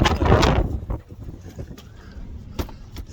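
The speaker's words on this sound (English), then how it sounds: "Wind." Wind gusts roar across the microphone on a blustery day among trees, loud and rushing at first, then easing into a lower steady blow with a few sharp buffets.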